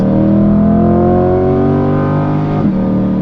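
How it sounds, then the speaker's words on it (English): A Chevrolet C8 Corvette's aftermarket exhaust revs loudly and steadily with a deep, throaty rumbling drone, then the pitch drops briefly near the end before settling again. "And the sound that this exhaust is making"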